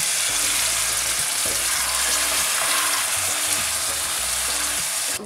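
Chicken pieces frying in a karahi over low to medium heat for chicken karahi, a steady broadband sizzle with soft low rumbling and gentle stirring throughout, close and fairly loud, no talking.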